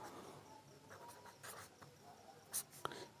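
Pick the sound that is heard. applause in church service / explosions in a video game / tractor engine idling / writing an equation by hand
writing an equation by hand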